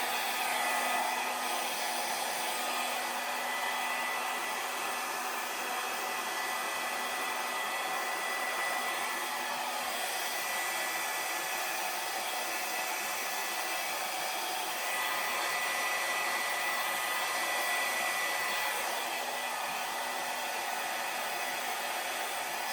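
A hair dryer blows steadily over acrylic paint during a Dutch pour, a loud continuous broadband whoosh that barely changes for the whole stretch and carries no speech.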